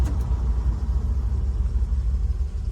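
A 1957 Chevrolet 3100 pickup truck rolls along during a brake test, its engine giving a low, steady rumble with road noise, moderately loud and continuous.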